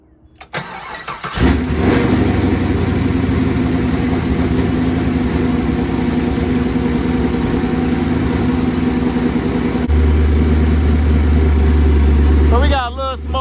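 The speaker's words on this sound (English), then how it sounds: "let's start the car up" A Chevrolet Camaro engine cranks and catches, then settles into a steady, loud idle close by, with a deeper rumble building near the end; a person speaks briefly.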